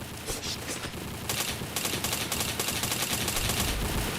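Rapid gunfire in a video game, a dense run of shots from the first moment, growing louder and busier after the first second and continuing to the end.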